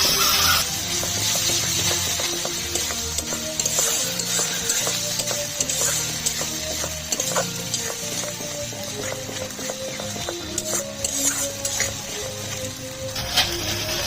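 Tomato paste added to a hot pan and stirred, a steady close sizzle with rhythmic scraping and clinking of a spoon against the metal pan that carries on without talking.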